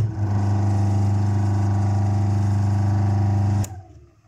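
An electric motor starts hard on a table, giving a loud, steady low hum with strong harmonics for several seconds. It then stops abruptly with a sharp click and quickly winds down into quiet.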